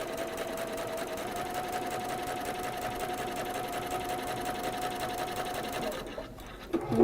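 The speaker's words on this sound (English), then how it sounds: "So just sewing on the line." A sewing machine stitches steadily along a marked line in a sewing workshop, its motor whirring loud and continuous for about six seconds before stopping abruptly, followed by brief handling noise.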